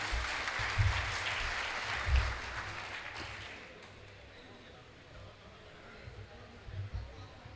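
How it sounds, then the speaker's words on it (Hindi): Audience applause welcoming a poet at a 2018 mushaira in Moradabad, a dense roomful of clapping that swells in the first few seconds, then thins and fades into a low murmur before a brief late burst. "ज़रा तालियां बजाकर इनका इस्तकबाल आप भी कर दें तो अच्छा होगा।"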